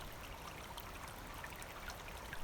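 A small spring-fed creek flows steadily outdoors in cold frosty air, a soft continuous babble and trickle, faint and even with no voices.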